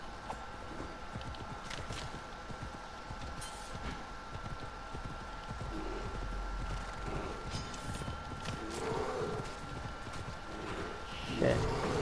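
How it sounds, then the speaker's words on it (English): In the video game Assassin's Creed Odyssey, a horse's hooves clip-clop in a steady walking rhythm, mid-distance, over ambient game sound, with a brief louder hit near the end. "stupid horse"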